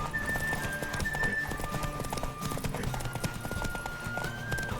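A horse gallops in The Witcher 3 video game, rapid rhythmic hoofbeats drumming continuously at close range with faint tonal game sounds behind.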